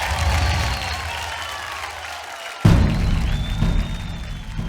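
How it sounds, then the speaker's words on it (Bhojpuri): An audience at a Bhojpuri singing competition breaks into loud applause for a contestant, a dense burst of clapping that swells suddenly midway, with a voice talking faintly underneath. "जोरदार ताली"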